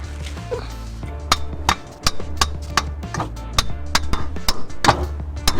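Repeated sharp metallic hammer blows on a Nissan Micra's bodywork, irregularly spaced and loud, over a low engine-like hum.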